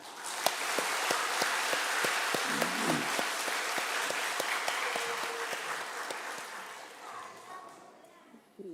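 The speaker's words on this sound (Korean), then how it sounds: "할렐루야 찬양 대원들은 시험 들지 마시고 박수나 한번 보내십시다." A church congregation at a Sunday afternoon praise service applauds the Hallelujah choir. Dense applause with sharp individual claps swells early, then gradually thins and fades toward the end, with some voices beneath it.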